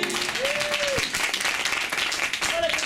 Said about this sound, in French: Merci, applaudissements.